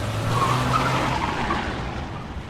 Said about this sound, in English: they both cried as Connie's car drove away